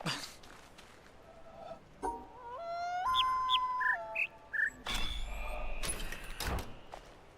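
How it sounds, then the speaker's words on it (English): Small bird calls in a video game puzzle, a string of bright chirps and a held whistled tone, then rising tweets over a faint ambient bed. "the only note that matters is the small bird's long note"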